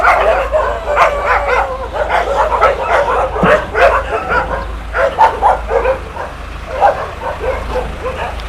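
Many dogs bark and yip in a shelter yard, a dense overlapping chorus of loud barks from close by and farther off, with a few whimpers mixed in.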